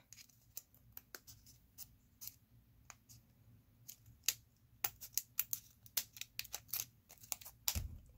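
Sealed plastic battery packaging being cut, with scattered sharp snips, clicks and crinkles, sparse at first and then denser and quicker, quiet and close with no talking.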